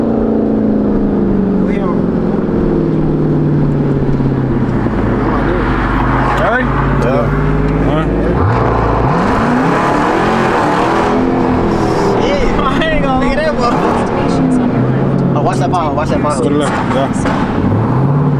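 Loud engine of a 1000 hp Jeep Trackhawk revving and droning close by, pitch sweeping up and down through the whole stretch, with people talking over it.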